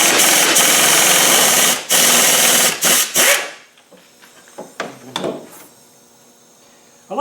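A small impact gun rattles loudly in several bursts on an alternator bolt of a Land Rover Defender 300 Tdi, then stops, followed by quieter clinks and handling noises.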